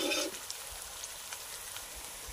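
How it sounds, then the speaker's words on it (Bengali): Spiced duck curry mixture frying in a pan, a soft, steady sizzle with occasional small pops and light stirring taps, close but quiet, after a brief louder burst at the start. "এবার সবকিছুকে কিন্তু ভালো করে ভেজে নেব।"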